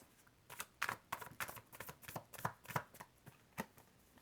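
Tarot cards are shuffled by hand close up, a quiet run of crisp riffling snaps and soft slaps in an irregular rhythm, with no talking.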